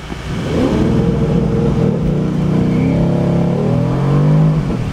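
A Lamborghini Huracan LP610-4 or Mercedes-AMG GT R launching hard at a quarter-mile drag race, the engine roaring loud and close with a rising, sustained pull as it accelerates for several seconds.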